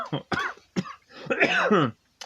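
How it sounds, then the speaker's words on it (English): A few sharp, close coughs come in quick succession, followed by a short stretch of someone talking. "I'm sorry for coughing."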